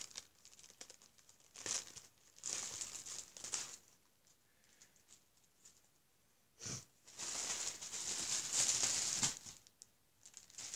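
Scissors cutting open the plastic packaging of a curling wand: bursts of crinkling and snipping plastic close up, with quiet gaps between and a long, sustained stretch of rustling near the end.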